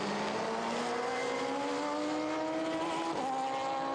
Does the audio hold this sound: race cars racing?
yes